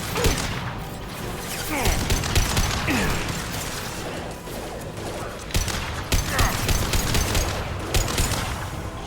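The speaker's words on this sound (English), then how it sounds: "There we go! Headshot!" Rapid gunfire from Mass Effect 2 crackles through dense game combat noise, with clustered bursts of shots and mechanical clatter, loud and continuous throughout.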